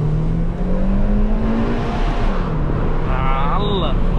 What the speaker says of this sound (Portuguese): Parece que liberou até mais potência pro carro.